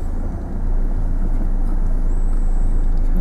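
A car engine under a learner driver's foot rises from a low hum into a sustained louder rev and holds there, close and steady, with no talking.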